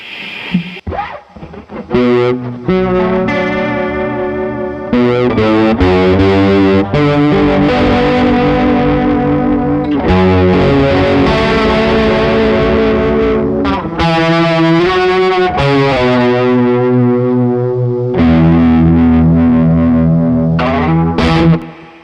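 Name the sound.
guitar chorus pedal with distortion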